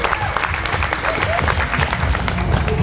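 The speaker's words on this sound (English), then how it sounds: "let's give a round of applause to the amazing people who put together this dome" A crowd in a dome at Burning Man claps together in dense, lively applause throughout, with voices mixed in beneath the clapping.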